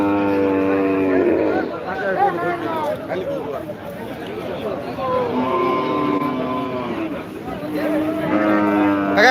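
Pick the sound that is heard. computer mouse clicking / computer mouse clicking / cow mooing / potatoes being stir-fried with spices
cow mooing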